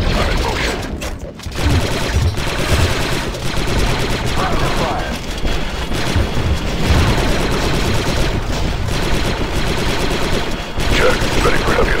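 A mounted gun turret firing in Star Wars Republic Commando, rapid sustained bursts of blaster fire with short pauses amid loud battle noise, with voices talking over the din.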